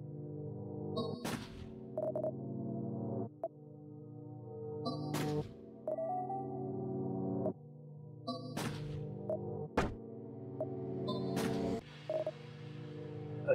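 Phone call tones in the video game No-Skin sound as a series of electronic beeps and tonal bursts, repeated at intervals of a few seconds, fairly quiet with no speech.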